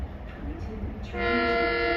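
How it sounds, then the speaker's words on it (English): An LIRR commuter train pulling into Wyandanch station sounds its horn, a loud sustained blast that starts partway through and follows a rumble of the train approaching. "is now arriving on platform B."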